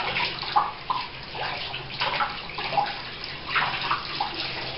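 Water sprays from a home garden hose in a steady hissing rush, moved around in circular passes so the splashing swells and fades in waves. The sound is close and continuous, with no talking.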